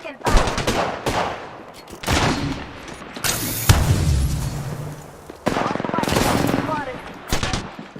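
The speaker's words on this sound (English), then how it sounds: "Taking fire." Video game gunfire in bursts of rapid machine-gun fire and single heavy shots, loud and close, separated by brief pauses, with players' voices talking between and over the shots.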